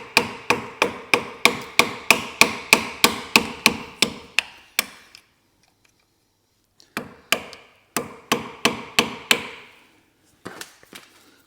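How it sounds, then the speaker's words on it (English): A hammer taps a split pin on the ABS ring of a Vauxhall Meriva, a close, sharp, steady series of metallic knocks, a pause, then another run of taps and a few final strikes. "Now I'm going to have to tap this one because it's slightly not in line."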